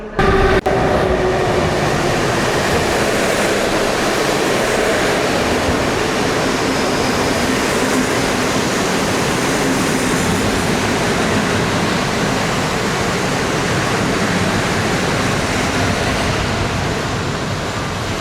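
A train in Poland rushes past close by, a loud, steady roaring rumble that holds for the whole stretch.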